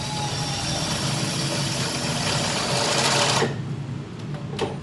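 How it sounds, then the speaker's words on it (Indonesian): An electric drill bores a hole through an aluminium frame for a two-sided running-text sign, giving a steady, loud, close whirring buzz for about three seconds before cutting off, followed by faint clicks. "Hati-hati ngebornya,"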